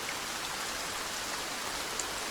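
Steady rain falls in an even, dense hiss with no breaks, a continuous wash of sound at moderate level with no voices.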